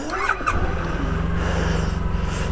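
A motorcycle engine starting on a ride out to Knaresborough: a brief cranking burst, then the engine catches and settles into a steady low, throbbing idle, close and prominent with no voices.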